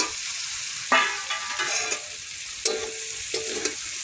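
Potatoes fry in a hot pan with a continuous bright sizzle, broken by several scraping stirs of a utensil against the pan, close and clear.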